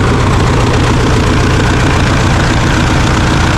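A 1958 Ford 861 diesel tractor engine idles loudly and close by, a steady low chugging rumble with no talk.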